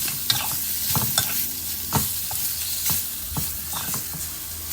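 Pork leg stir-frying in a hot pan with Southern Thai curry paste, a steady sizzle broken by repeated scraping knocks of a spatula, close and fairly loud with no voices.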